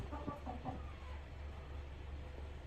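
Two hens and a rooster perched in a barn give a few short clucks in the first second, then go quiet over a steady low hum.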